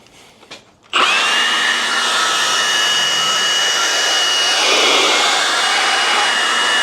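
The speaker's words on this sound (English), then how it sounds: "dry it off using your leaf blower" A leaf blower drying off a C6 Corvette headlight roars on abruptly after a moment of quiet, then holds a loud, steady, close whine with a brief shift in tone partway through.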